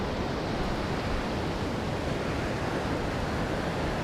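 Ocean waves roll in along a coastline, a continuous full-bodied wash of surf with no break, steady and fairly loud, with a touch of wind.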